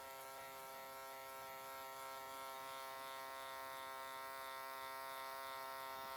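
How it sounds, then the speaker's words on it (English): Hair clippers buzzing steadily during a barber haircut, a faint, even electric hum with a constant tone throughout and no talking. "that clipper has something to grab onto"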